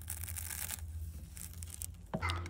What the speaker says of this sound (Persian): اول باید رشته شعریهای عربیمون رو قشنگ خوردشون کنیم